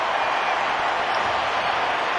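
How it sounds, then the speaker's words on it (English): A cricket stadium crowd roaring wildly after a delivery that beats the batter, a dense, loud and unbroken wash of cheering voices that holds steady throughout. "The crowd has gone wild."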